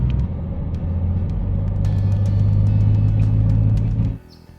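4WD vehicles working over the bumpy Canning Stock Route, a steady loud engine drone with rumbling wheelspin and faint rattles that cuts off abruptly near the end.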